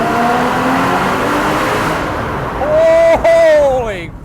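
Porsche Boxster Spyder engine with the exhaust open, revving hard inside a tunnel; a loud rising and falling engine note builds to a sharp, booming peak and then fades, echoing off the tunnel walls.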